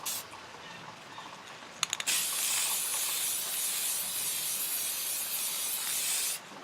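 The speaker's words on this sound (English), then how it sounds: "So I'm going to do 1 coat of clear on this" A close, steady hiss of clear coat spraying from a can onto a Flame Toys Optimus Prime model kit, running continuously for about four seconds after a few short test bursts, with no talking.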